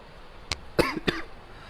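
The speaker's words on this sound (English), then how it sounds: "a cold seriously seized me and I feel very coughing" Three short coughs from a man with a cold, one brief one then two stronger ones close together, fairly near and clear against a quiet room background.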